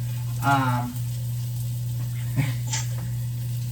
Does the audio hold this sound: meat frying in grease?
yes